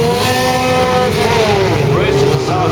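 A 1960s Lotus Formula One racing car built by Colin Chapman, fitted with an Alfa Romeo 1.5 litre engine, roars steadily close by, its harsh engine note holding and shifting pitch throughout, loud and alone.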